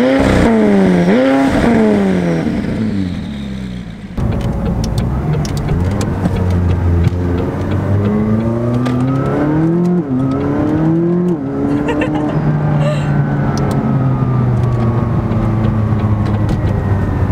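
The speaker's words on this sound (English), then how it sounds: "When starting up the car, all you have to do is put all your force into the brake and then press the engine start stop button" A McLaren 570S Spider sports car engine is heard running loud and close, with rising and falling revs and strong low harmonics throughout, briefly dipping around four seconds before steady running continues.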